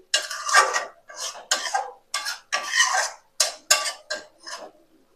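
A spoon stirs a mixture of Gobindobhog rice, potol (pointed gourd) and ghee in a pan, making a run of about a dozen short, distinct scraping strokes with brief pauses between them.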